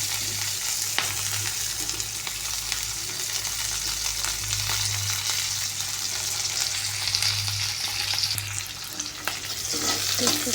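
Green chillies, sliced onion and bay leaf frying together in hot oil for an egg curry, a steady, close sizzle with crackling pops that stays loud throughout, no voices over it.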